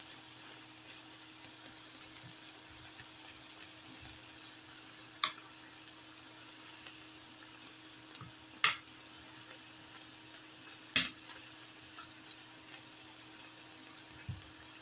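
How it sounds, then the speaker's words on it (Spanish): Ground meat cooking in a pan beside a pot of boiling water for lasagna, a faint steady sizzle and bubbling hiss with a few sharp clicks, no talking. "Aquí ya tengo mi carne que se está cocinando y tengo mi agua que está hirviendo"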